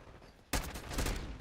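Gunfire in Black Ops 6, a first-person shooter, as a sudden loud burst of rapid shots that starts after a quiet half-second and keeps going to the end of the clip.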